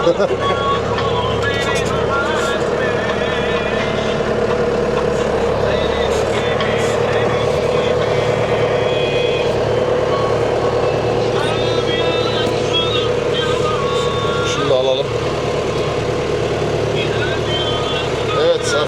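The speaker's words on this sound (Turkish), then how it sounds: "arkadaşlar ekime devam ediyoruz şu anda. Traktörümüz Tümosan, makinemiz Özdöken" A Tümosan tractor pulling an Özdöken planter while sowing sugar beet in a field, its engine a steady, loud drone throughout, with a voice talking over it.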